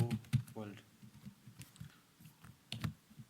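Keys clatter in quick bursts on a computer keyboard while Python code is typed, the clicks close and light, with someone speaking over parts of it.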